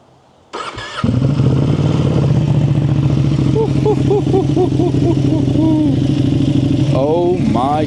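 A Ducati Panigale V2 motorcycle engine fires up close by after a short crank, then settles into a loud, lumpy idle with several quick throttle blips rising and falling in pitch.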